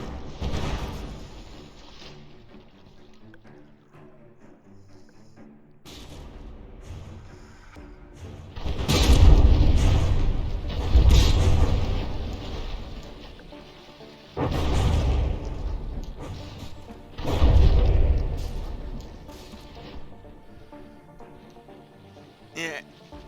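Naval shells fire and explode as battleships exchange fire in From the Depths, several deep booms rising out of a quieter stretch, each swelling and rumbling off, with a commentator talking over the action.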